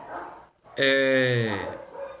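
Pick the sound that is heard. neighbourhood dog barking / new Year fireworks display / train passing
neighbourhood dog barking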